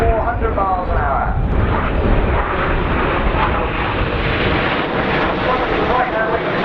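Red Arrows display jets roar overhead at an air show, all nine rolling inverted in tight formation at 2,500 feet and about 400 mph; a loud, sustained engine rumble and whoosh with a commentator talking over it.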